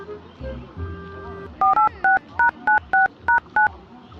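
Telephone keypad dialing tones sound as about nine short, clear beeps in an even, quick rhythm, following a brief low murmur and a sustained tone.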